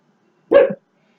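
A single short dog bark, close and loud, set against an otherwise silent indoor background.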